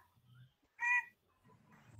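A single short, bright bird call rings out clearly in the middle, with faint low rustling before and after.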